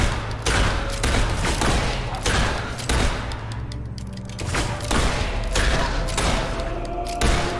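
Loud, continuous gunfire from the player's gun in the video game Fable 3, a dense barrage of shots and booms running throughout with no pause.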